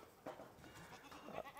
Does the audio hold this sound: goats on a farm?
yes